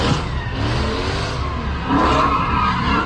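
A car engine revs hard during illegal street stunt driving in New Orleans, a loud continuous roar with rising pitch sweeps and a brief tire squeal, close and alone without talk.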